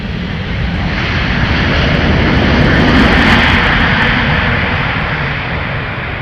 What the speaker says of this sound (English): caution wake turbulence for heavy Airbus touching down now, runway 12 right